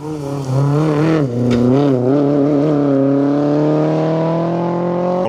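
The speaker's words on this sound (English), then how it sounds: "Watching the MG3s coming through at the minute." An MG3 rally car powering through a UK forest stage at Greystoke Stages, engine loud and close with a sharp rising rev, brief gear-change dips, then a sustained high-pitched howl as it accelerates past.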